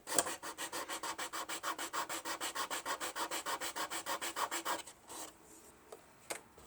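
A part of a Titanic wreck model being sanded by hand in about two dozen quick, even back-and-forth strokes, close and crisp, then a few faint scrapes and taps.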